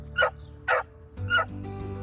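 A dog barks three times in quick succession, close and clear, with a short pause before the third bark, in a political ad.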